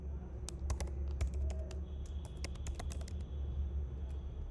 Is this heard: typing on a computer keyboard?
yes